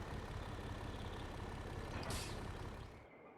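A truck in Farming Simulator 22 backing up to drop off a trailer, a steady close engine drone with a brief hiss of air near the end before it cuts off.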